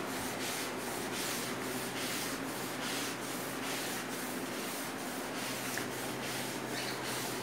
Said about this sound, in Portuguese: Tô aqui, ó, esfregando esse chão aqui, ó.